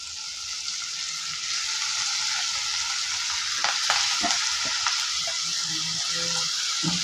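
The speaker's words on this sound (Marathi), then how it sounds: "आपल्याला 1 चमचा लाल मिरची टाकायची आहे. हे चांगलं परतून घेतलं की" A spoonful of red chilli sautés in a pan for Ghol (purslane) bhaji, giving a steady, close sizzle with scattered crackles and spoon scrapes against the pan throughout, with no talking.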